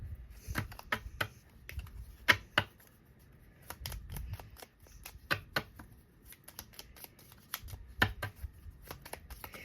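Tarot cards shuffled by hand at close range, a series of quick papery riffles and soft slaps in uneven bursts over a quiet room, with no speech.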